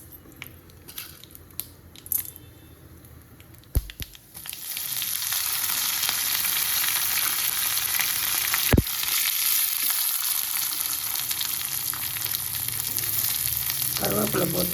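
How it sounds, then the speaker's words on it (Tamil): Mustard seeds and lentils hit hot oil for a South Indian sambar tempering, a few sharp taps and pops first, then a loud, steady close sizzle that holds to the end with occasional crackles and no talk. "கடுகு போடுறேன், உளுத்தம்பருப்பு போடுறேன்,"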